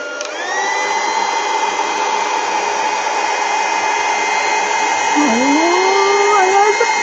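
Heat gun blowing steadily to emboss a watercolour card, a loud continuous whirring hiss that holds throughout with a slight pitch shift near the end.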